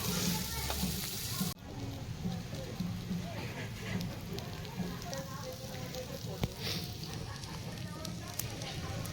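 Chicken frying on a griddle over a wood fire gives a steady, dense sizzle that runs throughout, with some crackle from the flames and voices talking faintly in the background.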